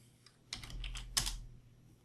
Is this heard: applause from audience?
no